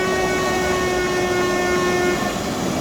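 A train rushes past in Train Simulator 2019 on an Austrian Salzkammergut route, a loud steady roar with a sustained horn tone running through most of it and light rail clatter underneath.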